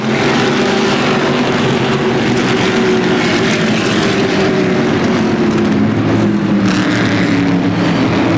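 Stock cars at Motordrome Speedway in a 2004 season-finale race roar around the oval in a continuous loud, layered engine drone with shifting pitch as cars pass, no talk over it.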